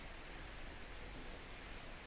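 Steady morning rain falling in a rural village, a continuous dense hiss with no breaks, fairly loud and unaccompanied by any voices.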